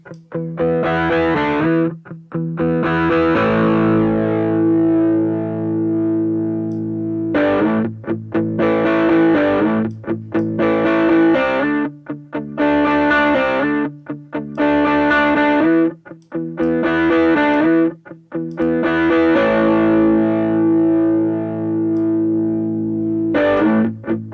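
Electric guitar played through a homemade amplifier with heavy distortion and effects, strummed in loud chord bursts separated by short pauses, alone without talk.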